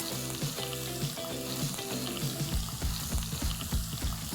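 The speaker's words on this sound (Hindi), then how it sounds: "अब मैं ये पीसा हुआ प्याज इसमें डालूंगा ऑयल के" Ground onion paste frying in hot oil with bay leaf and cardamom for dhaba-style chicken masala, a steady dense sizzle with stirring, heard close and continuous over background music.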